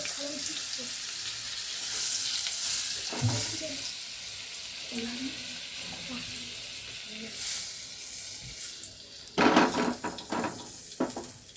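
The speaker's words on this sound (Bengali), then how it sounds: "বাটারটা মেল্ট হওয়া অবধি আমাদের অপেক্ষা করতে হবে।" Butter melting and sizzling in a pan while making a plate-bread snack, a steady soft frying crackle running throughout, with a brief clattering burst of utensil or water noise near the end.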